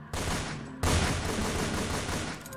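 Gunfire in the modded video game SCP: Containment Breach, a loud burst that jumps abruptly louder partway through and continues as sustained rapid shots.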